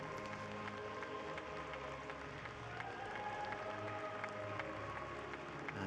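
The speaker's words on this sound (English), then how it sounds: "as you can hear from the applause from the smattering of people who've been allowed into the Nippon Budokan today" Faint, sparse applause from a small scattered crowd inside the Nippon Budokan at a Tokyo 2020 Paralympic judo medal ceremony, steady light clapping throughout.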